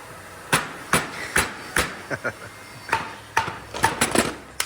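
Hammer blows knocking off the rear differential cover of a '92 vehicle on a workbench, a dozen or so sharp metallic strikes at an uneven rhythm, some single and some in quick clusters, loud and close.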